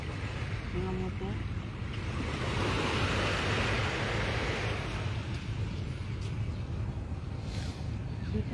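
Motorboats and waves at a beach in Ternate, Cavite make a steady, broad wash of surf and engine rumble with wind buffeting the microphone throughout, no talk.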